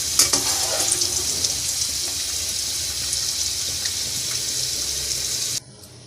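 Potatoes frying in hot oil in a karahi for aloo karahi, a steady close hiss and crackle with a few sharper pops early on, cutting off abruptly near the end.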